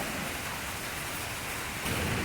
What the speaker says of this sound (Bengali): আমাদের বৃষ্টিও চলে এসছে